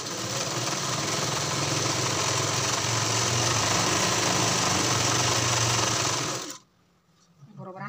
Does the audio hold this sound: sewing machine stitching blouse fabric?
yes